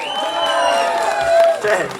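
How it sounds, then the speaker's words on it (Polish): Audience applause and cheers for children and youth at a highland folk dance lesson, a steady wash of clapping with whoops mixed with talk and music over two seconds. "a tu jest wielkie brawa dla was!"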